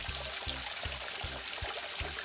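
Spring water from a hillside gravity-fed catchment spills steadily from a pipe, a continuous pouring rush with a regular, pulsing gurgle throughout.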